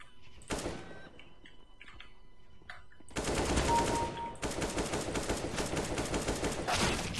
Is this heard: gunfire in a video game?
yes